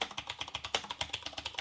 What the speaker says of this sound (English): Then they brought out the Qwerkywriter S, which used Cherry MX blue switches